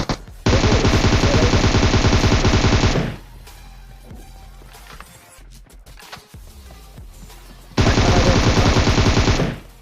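Loud automatic gunfire in PUBG at Pochinki, long sustained bursts of rapid shots, then a quieter stretch of game ambience with scattered sounds before another heavy burst of fire.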